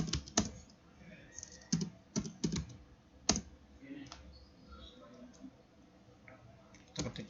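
Keys clatter on a computer keyboard during a login to an Ubuntu server, coming in short irregular bursts of sharp clicks separated by quieter pauses, close and moderately loud.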